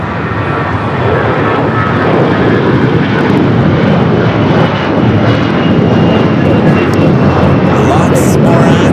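An Alaska Airlines Boeing 737 MAX 8, flight to Seattle, takes off from runway 24 left at LAX. It makes a loud, steady jet roar that holds at full strength throughout.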